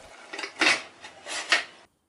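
Pressure cooker lid being closed over sama khichdi in a kitchen, a few light metallic clinks and scrapes of the lid settling into place, close and fairly quiet, ending abruptly.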